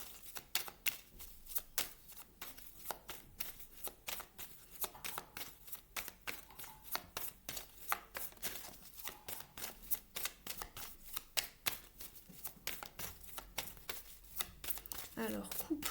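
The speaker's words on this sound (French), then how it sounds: "avec mon pansement, c'est pas forcément facile de battre les cartes" Tarot cards are shuffled by hand in steady, rapid riffling bursts, close and fairly quiet, repeating throughout with no talking.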